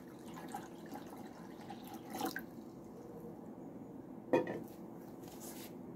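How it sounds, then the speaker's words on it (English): Water poured into a container during a simple classroom float-or-sink demonstration; soft trickling and drips with a couple of brief splashy clinks, fairly quiet and close, with no voices. "if you just pour some water in this container"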